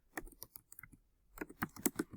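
Keys clatter on a computer keyboard in two short bursts of quick, light typing, close and fairly quiet, with a brief pause between them.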